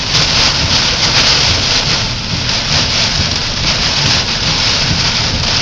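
Rain drums steadily on a car during stormy weather, a dense, loud, unbroken hiss of close drops that stays at an even level throughout.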